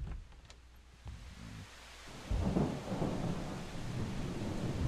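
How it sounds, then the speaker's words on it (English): Steady rain hiss from a storm in the zombie survival game Project Zomboid, with low rumbling thunder swelling louder partway through and continuing as a broad, close wash of rainfall. "I know for a fact that it's raining outside."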